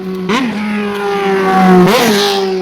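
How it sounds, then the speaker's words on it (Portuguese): Loud motorcycles roar past close by on a street, engine pitch rising and falling as one bike passes and a second follows, with a steady drone in between. "Essas motos barulhentas são uma peste."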